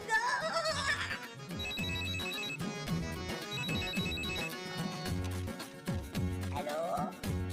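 A telephone rings in a Pakistani TV comedy scene, its repeating tonal chime sounding over busy background music and effects for the whole stretch.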